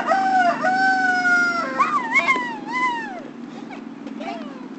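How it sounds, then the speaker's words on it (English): A chicken outside a fence gives several drawn-out, wavering calls with rising and falling pitch. The calls sound near and fairly loud over a steady low background hum, then fade toward a few faint chirps at the end. "It's a chicken."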